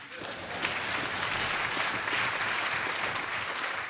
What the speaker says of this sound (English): Yes, you can applaud yourselves.